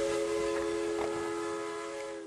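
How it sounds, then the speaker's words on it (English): A steam locomotive whistle from the Polar Express train gives one long, loud, steady blast that holds its chord for the full stretch and fades only slightly at the end, with no voices. "The Polar Express let out a loud blast from the whistle and sped away."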